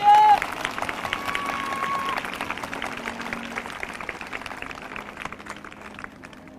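A church congregation claps together to welcome first-time visitors at a live prayer service, a broad, steady wash of applause with a brief tone at the start, fading gradually toward the end.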